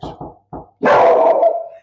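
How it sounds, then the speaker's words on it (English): A dog barks indoors during a math lecture, with a few short sharp barks followed by a long, loud, drawn-out howling bark, close to the microphone. "sorry about the dog interruption"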